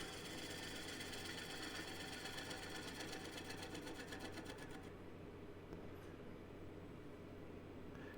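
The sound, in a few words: wood lathe, bowl gouge cleaning up the face of a tenon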